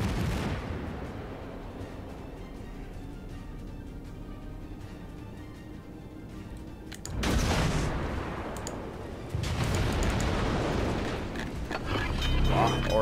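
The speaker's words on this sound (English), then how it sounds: "let's also fire a few torpedoes" Warship in World of Warships launching torpedoes, a steady low rumble of the ship followed by two heavy bursts of booming, rushing noise midway and near the end, loud and close.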